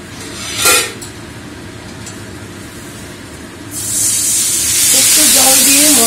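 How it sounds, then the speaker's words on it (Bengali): Spiced masala of cumin, coriander and chili powder in a pan starts sizzling loudly after a splash of water, a bright steady hiss building and holding to the end over a low background. "একটু জল দিয়ে মশলা"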